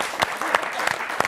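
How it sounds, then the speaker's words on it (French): Studio audience applause on a French TV football show, brief and fairly quiet, with a dense patter of clapping and a few sharper individual claps standing out. "On l'applaudit, on l'encourage."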